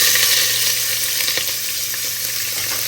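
A large onion, sliced lengthwise, sautés in oil with fennel seeds in a pressure cooker for paneer biryani: a loud, continuous close-up sizzle with faint stirring scrapes and no talking.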